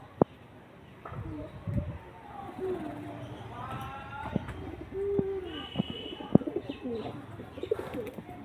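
Pigeons in a home loft, some nesting with eggs and chicks, give repeated low throaty coos along with a few chirps and clicks, fairly close, while someone talks quietly now and then.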